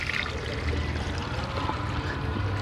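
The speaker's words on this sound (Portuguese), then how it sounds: "A gente já vai colocar aqui, ó, 1 litro d'água." One litre of water poured from a container into a kitchen blender jar, a close, continuous splashing and gurgling stream at steady volume with no talk over it.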